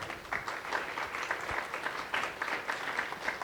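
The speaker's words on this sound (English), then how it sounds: "Let's give them a round of applause." Conference audience claps for event sponsors in a modest round of applause, fairly soft and somewhat uneven, with individual claps audible in the mix.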